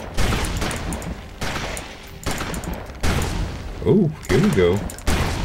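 Repeated shots from a ranged weapon in the action RPG Victor Vran, sharp bursts recurring roughly every second, loud and close, with someone talking over them.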